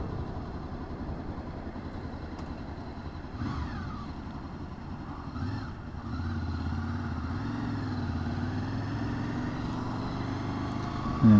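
Honda VFR800 motorcycle ridden on a road, its engine droning steadily up close with shifting pitch as gears are chosen, heard alone without talk.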